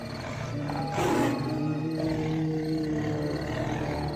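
A tiger roar used as a sound effect in a 3D horror story, a single loud, growling roar peaking about a second in over a rumbling ambient background, with no talk.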